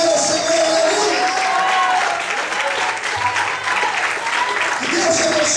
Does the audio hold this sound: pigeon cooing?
no